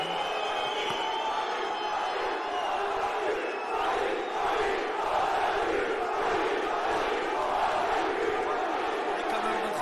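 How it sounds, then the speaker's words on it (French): A large arena crowd loudly boos and jeers boxer Dylan Thiry at a fight in Marseille, a dense, sustained roar of hostile voices throughout with no single speaker standing out. "quel bronca pour Dylan Thierry qui est conspué par la foule"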